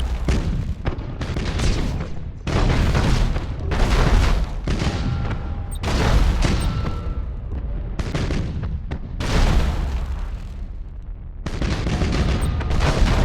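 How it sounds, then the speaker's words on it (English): A ship is blown apart in the space battle game Battlefleet Gothic: Armada. Heavy booming blasts come one after another with deep rumbling between them. "Target destroyed, Captain. We blew it to pieces."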